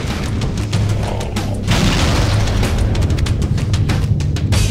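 Fusion reactor exploding aboard a ship in Halo: Combat Evolved, a heavy low boom that swells into a sustained roar with crackling bursts, loud and close, no voices.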